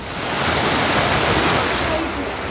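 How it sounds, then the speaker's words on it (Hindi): Monsoon floodwater rushes down a city street in a loud, steady roar of churning water that holds without a break throughout, with no clear voices over it. "देख लीजिए बीच सड़क पर कैसे इंसान पानी के प्रवाह में बहता जा रहा है।"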